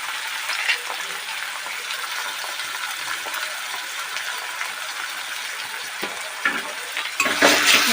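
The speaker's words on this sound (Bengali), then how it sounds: "দিয়ে ভালো করে নেড়ে ফেলে" Egg bhurji with chopped tomato and salt fries and gets stirred in a pan, a steady close sizzle with occasional spatula scrapes and clinks, louder bursts of crackle toward the end.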